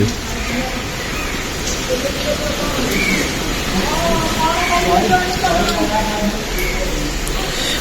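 Heavy rain pours down on a residential colony street, a steady, close hiss throughout, while a person talks over it.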